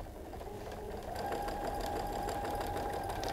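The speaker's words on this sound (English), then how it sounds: "we'll sew these two together, so we can kind of show you that finished block. Now this is a lot easier stitch. Just a straight stitch." A sewing machine runs a straight stitch joining quilt block pieces, starting softly and then humming steadily at full speed, close and alone.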